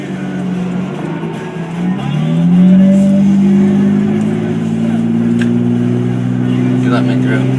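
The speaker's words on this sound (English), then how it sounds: "Oh, I got a snowplow coming up here." A snowplow approaches and drives past on a road, heard from inside a car as a loud, rising engine roar that swells and then holds steady, with talking over it.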